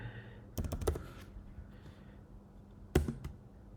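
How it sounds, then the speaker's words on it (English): Keys on a computer keyboard click in two short bursts of typing, a quick cluster early on and another near the end, quiet and close with silence in between. "Let me type the username."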